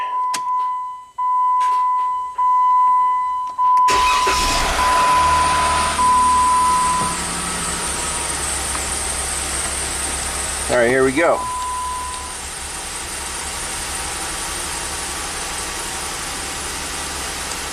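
A Jeep engine with newly adjusted cam timing cranks, catches and settles into a steady idle. A brief tone and clatter come first, and someone speaks just before it starts.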